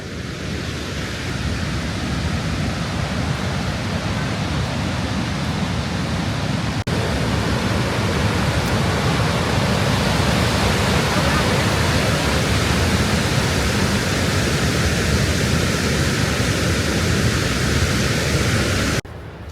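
Victoria Falls waterfall roaring, a dense, steady broadband rush of falling water that stays loud and unbroken throughout, heard close from a trail beside the falls, with no voices.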